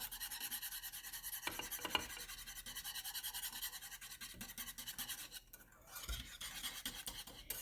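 Metal whisk stirring mousseline cream in a pot on a stovetop over medium heat, a continuous rapid scraping rhythm close by, briefly pausing near the end before resuming.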